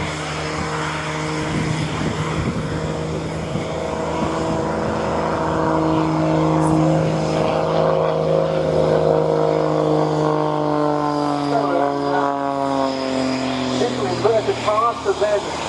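A propeller-driven warplane roars through an aerobatic display at RNAS Yeovilton Air Day, its engine note loud and sustained, then rising and shifting in pitch as the aircraft manoeuvres, with a commentator's voice talking over it.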